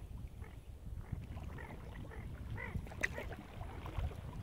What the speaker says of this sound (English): you're gonna see some baby ducks and the